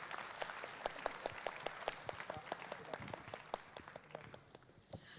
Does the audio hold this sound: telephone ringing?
no